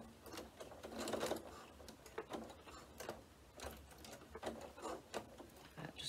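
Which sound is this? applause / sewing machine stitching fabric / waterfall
sewing machine stitching fabric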